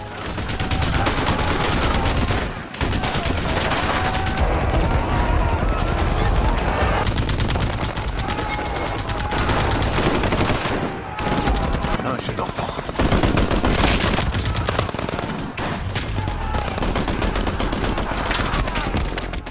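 Loud rapid bursts of gunfire crackle almost continuously, with brief pauses between volleys, under a dense, busy war-film soundtrack of elite Russian troops fighting rebel forces.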